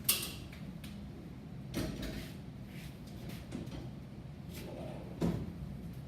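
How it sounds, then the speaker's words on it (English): Doors of a GTS2000 waste unit swing shut with a couple of soft knocks and creaks, followed by a louder closing thud near the end, heard close and moderately loud over a steady room hum. "Close the doors."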